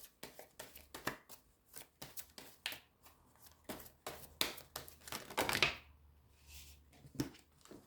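Tarot cards being shuffled and drawn by hand, a run of quick crisp riffles and flicks with brief pauses, close and fairly soft, with no talk over them.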